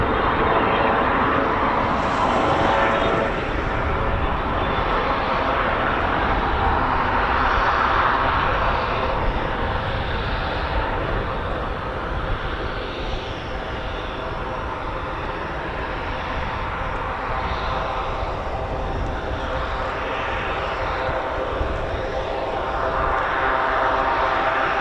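An RAF training aircraft taxiing past on an airfield gives a steady, loud engine drone that swells and eases slightly, with faint talking beneath.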